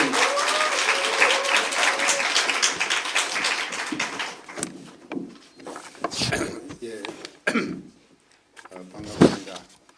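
An audience at a Korean youth development forum gives dense applause to welcome a speaker, loud at first and then thinning into scattered claps and thumps as a voice begins talking.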